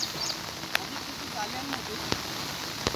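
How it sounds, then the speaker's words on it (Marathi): Heavy rain pours steadily during cast-net fishing on the flooded Ulhas river, a constant dense hiss with a few sharp drop spatters and knocks, while people talk over it. "पाऊस पण फुल जोरात चालू आहे"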